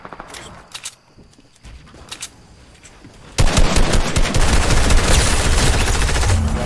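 Gunfire in the Fortnite video game: a few scattered shots at first, then a loud, sustained burst of rapid automatic fire that continues to the end.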